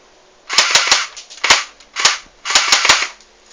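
Small airsoft gun firing gravity-fed BBs, a set of sharp close snapping shots, some single and some in quick doubles and triples, loud and alone with no talk.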